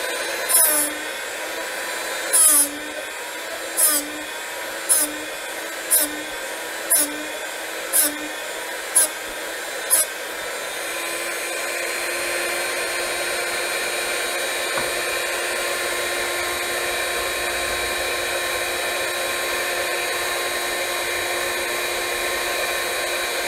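A Drill Doctor bit sharpener runs with a steady high motor whine, at first interrupted by about nine regular grinding pulses as the bit is turned, then a continuous even hum, near and alone.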